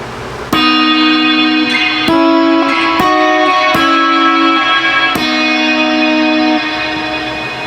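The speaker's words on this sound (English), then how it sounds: "let's turn the reverb full blast with the dwell." Electric guitar through a Quilter Aviator Gold amp with reverb at full and dwell engaged, loud sustained chords struck about five times, each ringing out in a long wash of reverb, with no talking.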